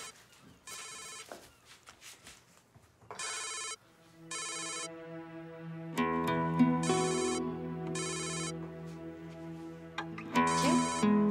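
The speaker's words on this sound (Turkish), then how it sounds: "Telefonu çalıyor, bakayım mı?" A mobile phone rings indoors with an electronic melodic ringtone, repeated bursts that grow fuller and louder as the tune goes on, close by and with no talking over it.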